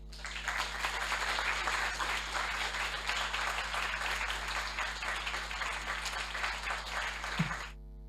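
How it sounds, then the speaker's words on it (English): Sustained audience applause fills a hall at an academic year opening ceremony, a dense steady wash of many hands clapping for about seven seconds before stopping abruptly. "let's give a very big applause to this very animated personality"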